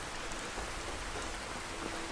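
Heavy storm rain pours down in Skyrim, a thick continuous patter of drops on the ground that stays constant and fairly loud for the whole moment, with no talking over it.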